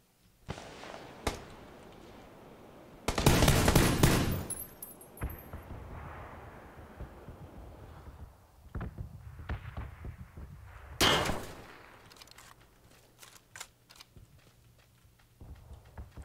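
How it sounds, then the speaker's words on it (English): Gunshots from another player in PUBG ring out as a few loud sharp cracks with echoing tails, scattered among quieter thuds and shuffling movement noise. "there's someone else shooting at me now"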